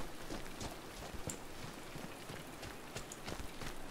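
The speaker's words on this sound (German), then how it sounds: "Jetzt regnet es auch noch." Steady video-game rain in Sniper Elite 5 hisses and patters evenly, with scattered sharper drops tapping through a constant wash of noise; no voices.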